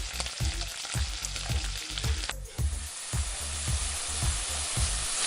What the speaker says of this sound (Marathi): नरम होईपर्यंत परतून घ्यायचा आपला कांदा